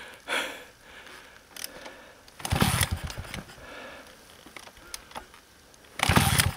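A motor engine cranks and catches in short bursts, sputtering and cutting out between attempts, with loud clattering surges near the start and end against quieter rumbling gaps.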